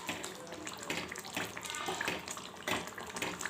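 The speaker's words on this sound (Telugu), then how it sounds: "ఇలా ఉడుకుతుండగా ఇలా చిక్కబడుతుందండి" Tamarind sauce for pulihora bubbles and thickens in a pan on the stove, giving a steady, close, dense sputtering and simmering hiss throughout.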